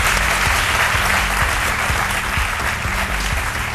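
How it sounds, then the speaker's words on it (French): A studio audience on a French-language midday talk show applauds loudly and continuously for a guest, dense clapping held at an even level for several seconds. "Je vous demande de l'applaudir très fort."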